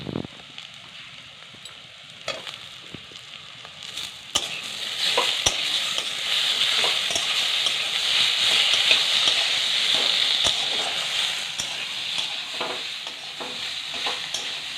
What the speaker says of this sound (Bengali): পেঁয়াজগুলো একটু নেড়ে ছেড়ে ভেজে নিয়েছি, এর মধ্যে দিয়ে দেবো টমেটোগুলো